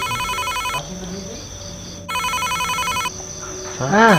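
A phone rings in a comedy sketch: a repeating electronic ringtone in bursts, a pause, then more rings, with rustling and a short rising tone near the end.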